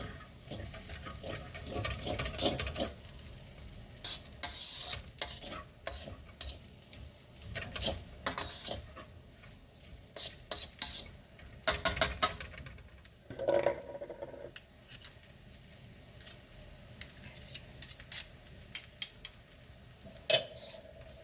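Fried rice with egg cooks in a pan with quiet sizzling underneath, broken by irregular metal utensil scrapes and clinks against the pan bottom, sometimes in quick clusters, with no talk.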